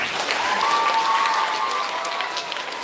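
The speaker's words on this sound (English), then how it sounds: "Give yourself another big round of applause." An audience at an elementary school concert claps in sustained applause, a dense steady patter that fills the room and tapers slightly toward the end, with no talking.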